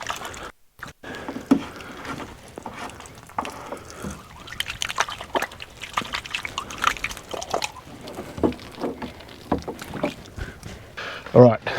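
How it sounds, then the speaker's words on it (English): Hands are washed under splashing, dripping water at an outdoor camping cook-up, with the seasoning rinsed off in uneven sloshes while a person talks nearby. "I'll just quickly wash my hands because I've got seasoning all over them"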